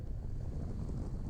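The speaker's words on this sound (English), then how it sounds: "it's super windy here" Strong gusty wind buffeting a rider during a motorcycle adventure ride in the George Washington National Forest, a steady low roaring rumble of wind noise with no voices.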